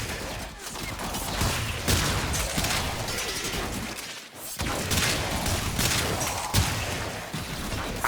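Rapid semi-automatic fire from the Lato Vandal Incarnon pistol in Warframe, a dense continuous stream of shots and explosive area bursts, loud and sustained with brief dips, no voices.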